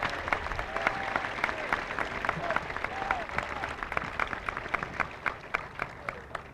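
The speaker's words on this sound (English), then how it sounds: "Please give them a round of applause right now." A school audience gives a round of applause for teachers, a steady moderately distant clapping with individual claps popping out, plus some voices mixed into the crowd.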